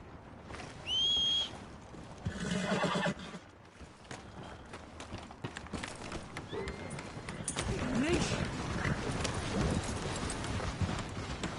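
Hooves clip-clop at a steady trot alongside a brief horse whinny in Red Dead Redemption 2, with game-style effects and a voice speaking over the mix.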